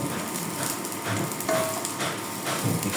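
Chopped onions hit hot oil in a pan and are stirred for a home-cooked Filipino ulam, giving a steady close sizzle and crackle broken by soft scraping of the spoon, with no talking.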